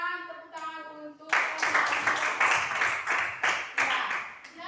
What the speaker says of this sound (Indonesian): Ya, kita berikan tepuk tangan untuk